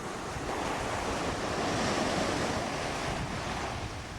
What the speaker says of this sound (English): You can hear the waves breaking at my feet there.